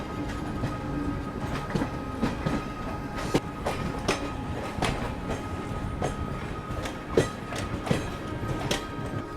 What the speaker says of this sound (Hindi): और बहुत देर से दोनों ट्रेनें बिल्कुल पैडल में चल रही थी